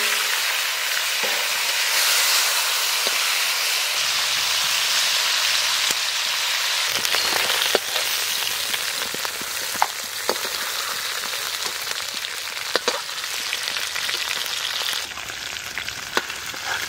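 Baim eel fish sizzle steadily in hot oil, a loud continuous frying hiss with occasional sharper pops and crackles, heard close with no talk.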